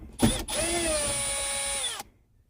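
Power drill backing out an overhead console dome light screw on a 2006 Dodge Ram 1500: a brief blip, then a steady whine of under two seconds that winds down, close up.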